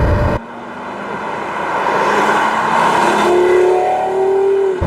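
Porsche Carrera GT engine revving while driving, a loud, close cabin roar that climbs in pitch, with a blip and a rising rev near the end before cutting off.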